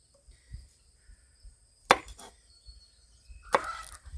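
A knife trimming the ends off garlic cloves on a board, two sharp distinct chops about a second and a half apart, close and clear against near silence.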